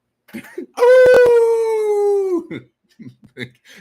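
A person imitates a wolf howling at the moon with a single loud, sustained vocal howl of about two seconds that slides slightly downward. Brief murmurs and short voice sounds come before and after it.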